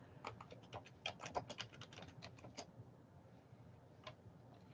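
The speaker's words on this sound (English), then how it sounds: "I am typing out a message for y'all to send you off with." Rapid clicking of computer keyboard keys as a message is typed, quick irregular taps that are fairly faint and close, thinning out and ending with one last isolated keystroke.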